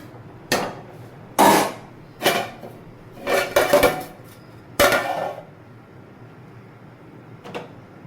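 A metal lid is handled and set on a cooking pot of simmering dal and meat for shami kebab: five or six distinct clanks and clatters spaced over several seconds, close by, with a faint final tap.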